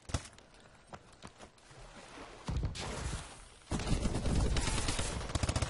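Silenced gunfire in Call of Duty Advanced Warfare, a quick run of muffled shots that turns into denser, louder bursts of fire.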